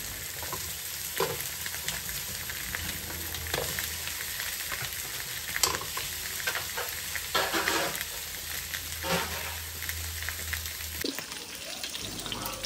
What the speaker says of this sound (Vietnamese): chiên cái lớp mỡ ở dưới da cho nó ra bớt